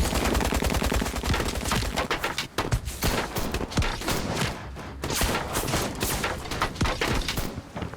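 Gunfire from a combat scene in the video game Syberia: The World Before pours out as a dense, loud barrage of rapid shots that keeps going without a break.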